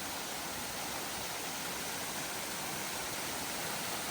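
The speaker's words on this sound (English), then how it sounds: "I mean, only a small waterfall too" A small winter waterfall in Cape Breton, Nova Scotia, pours in a steady, dense broadband rush, loud and close, with no pauses and no voices.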